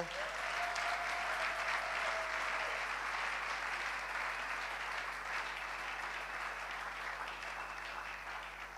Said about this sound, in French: Est-ce que vous pouvez vous acclamer vous-même?